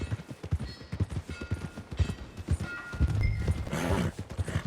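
A horse walks along in Red Dead Redemption 2, with steady rhythmic clip-clop hoofbeats close by and a brief whinny near the end.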